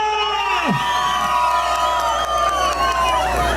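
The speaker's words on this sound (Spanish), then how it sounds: "Fuerte las palmas para Bucaramanga." A festival crowd cheers, whoops and shouts at an avocado and guarapo festival in Pachamarca, with one voice rising in a sliding whoop near the start over the continuous dense roar of many people.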